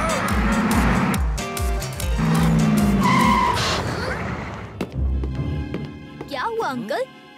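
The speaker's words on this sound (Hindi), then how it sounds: "अचानक ये बस क्यों रोक दी?" A cartoon bus braking suddenly, tires skidding with a sharp screech over engine noise, followed by voices reacting as the vehicle halts.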